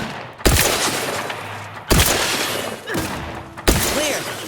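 Four sharp, loud gunshots ring out at uneven intervals in The Outer Worlds 2, each a hard crack trailing into a reverberant tail, with faint tonal game sounds between shots.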